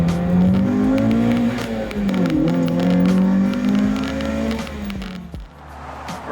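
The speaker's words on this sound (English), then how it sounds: "now the car was running great. Check it out." A Mazda Miata engine, running again after an ECU fuse fault was bridged with a jumper wire, hums steadily with a smooth, even tone and slight rises in pitch, close by and continuous.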